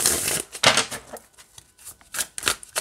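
Black Seed Tarot cards being shuffled by hand in several quick riffling bursts, close and crisp, with short pauses between the flurries of papery slaps.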